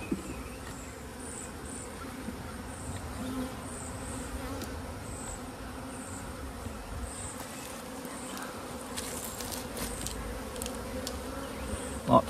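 Honey bees buzz steadily in a dense, close drone while a hive is opened for an early inspection, with a few faint clicks and knocks from the frames.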